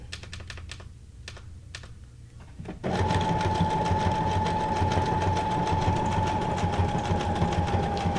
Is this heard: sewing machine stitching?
yes